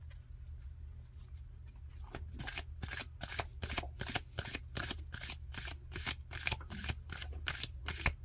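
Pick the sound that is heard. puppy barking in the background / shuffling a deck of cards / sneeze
shuffling a deck of cards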